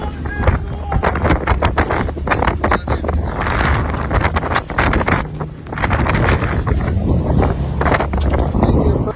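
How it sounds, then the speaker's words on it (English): Strong wind gusts buffet a sailboat in a harbor during a sudden storm, roaring loud and continuous across the whole stretch with surging rumble and flapping, while voices shout faintly underneath. "a sudden gust of wind knocked down the mast, causing the sailboat to wobble in the middle of the harbor"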